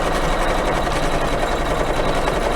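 An embroidery sewing machine tacks a piece of leather down onto a quilted pillow block, giving a loud, steady mechanical whir with a fast, even stitching pulse throughout. Close and unbroken, with no talk.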